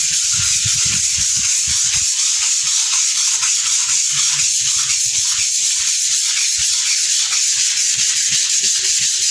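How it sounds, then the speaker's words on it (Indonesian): 240-grit sandpaper rubs steadily back and forth on a dried water-based clear wood finish, a loud continuous scratchy hiss with rhythmic strokes, close up and without talking. "Setelah kering langsung kita amplas ini."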